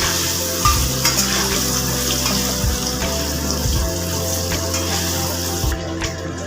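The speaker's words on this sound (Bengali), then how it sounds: "পনির কিন্তু খুব বেশি ভাজবো না, হালকা করে ভাজবো।" Paneer cubes fry lightly in hot oil, a steady close sizzle and bubbling with occasional stirring scrapes and low thumps, no voices.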